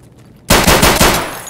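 Sudden burst of rapid automatic gunfire in Escape from Tarkov, a loud close volley of closely spaced shots that cuts in after near silence and keeps firing.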